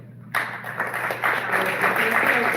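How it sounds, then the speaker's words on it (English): An audience at a micro film festival for World Chocolate Day breaks into applause, which starts suddenly and continues as dense, moderately loud clapping to the end. "a quick round of applause"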